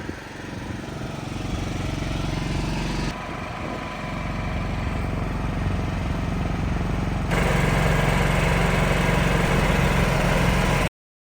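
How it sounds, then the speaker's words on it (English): A backup generator runs steadily through a scheduled test, a continuous engine drone heard from some distance, with a slight jump in level partway through and no talk over it. "the generator's had a good test"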